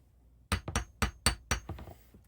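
A light hammer taps a Hynautic H-50 steering helm on a Silverton 34 Convertible boat. Five sharp, fairly close metallic knocks fall in a steady rhythm, each with a quick rebound tap, and nobody speaks.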